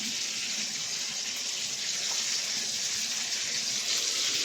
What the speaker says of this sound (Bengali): এবার মাছ ভেজে নিচ্ছি এখানে।